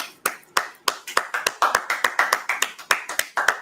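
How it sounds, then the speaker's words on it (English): A small class audience claps steadily for several seconds, a close, irregular patter of hand claps with no talking over it. "let's clap it up"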